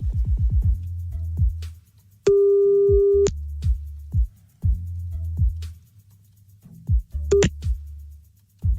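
A telephone line tone plays for a call placed to a radio prank target: clicks and pulses, then a steady held beep lasting about a second, more clicks, and a short double beep near the end, loud and close.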